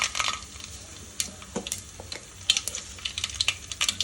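Mustard seeds crackle and sizzle in hot oil heated for a lentil rasam (pappu charu), with scattered sharp pops over a steady low frying hiss, loud and close, no voices.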